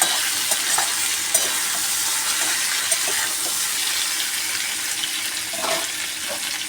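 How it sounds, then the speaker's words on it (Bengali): Potatoes fry with green chilies in a home kitchen pan, giving a steady, close hiss of sizzling oil with faint stirring clicks throughout and no voices. "কাঁচা লঙ্কা দিয়ে ভাজা হচ্ছে"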